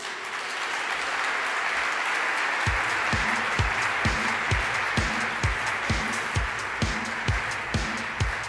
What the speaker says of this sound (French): Merci d'applaudir et d'encourager Khadija, Colombe et Estelle.